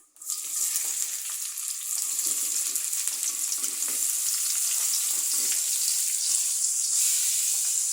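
Papaya pieces hit hot oil with onion, green chili and black cumin, bursting into a loud steady sizzle that holds for several seconds with occasional stirring scrapes.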